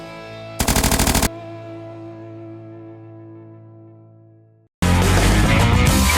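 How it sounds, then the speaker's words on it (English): Bursts from an 1876 Gatling gun at a gun store, a loud rapid rattle lasting under a second, then a long ringing tone that fades, followed by another loud sustained burst of fire. "something as large as our 1876 Gatling gun"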